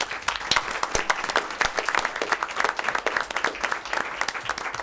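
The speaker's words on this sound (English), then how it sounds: "can we give our student leaders a round of applause?" People at a school board of education meeting give student leaders a round of applause, with brisk, close clapping from a modest crowd that is dense and continuous throughout.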